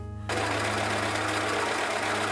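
A sewing machine stitching a dress runs steadily at close range, its fast motor hum and needle chatter starting abruptly after a brief pause and continuing without talk.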